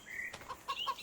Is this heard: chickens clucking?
yes